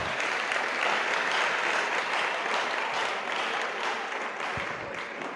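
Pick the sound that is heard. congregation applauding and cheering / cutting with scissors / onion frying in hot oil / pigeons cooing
congregation applauding and cheering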